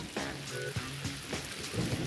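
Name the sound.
thunder and heavy rain shower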